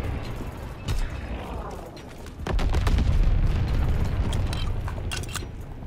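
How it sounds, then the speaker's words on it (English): Deep booms and crackling blasts roll through a video game salvo bombardment, with a sharp hit near the start and then a denser, sustained barrage of explosions. "Black salvo commenced, clearing the sky."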